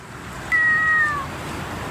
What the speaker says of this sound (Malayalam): ഇഷ്ടംപോലെ പൂച്ചയുണ്ട് കേട്ടോ ഇവിടെ